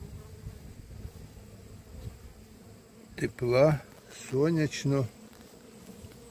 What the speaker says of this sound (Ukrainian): бджолки заливають ці комірки